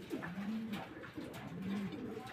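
A pair of Maxi pigeons, sitting on eggs, coo in two drawn-out, low rolling calls close by. A faint murmur of other birds sits in the background.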